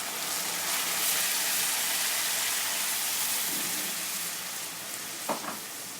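Tomato paste fries with browned onions in a pan in a steady, close sizzle that runs throughout, with a brief stirring clatter near the end.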